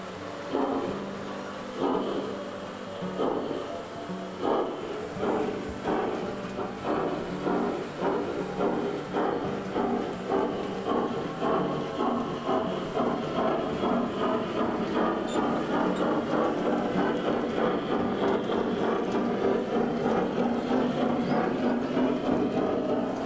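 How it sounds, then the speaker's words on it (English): A model train rumbles steadily along its track with a rhythmic clicking over the rail joints, continuous and fairly close, with no talking. "hear that train going over there?"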